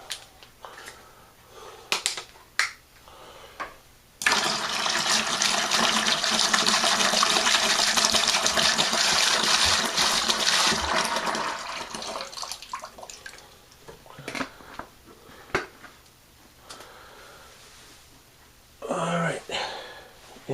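Pineapple juice from a 64-ounce bottle poured into a wine fermenting bucket, a steady loud gush of liquid lasting several seconds before tapering off, with a few clicks and handling knocks around it.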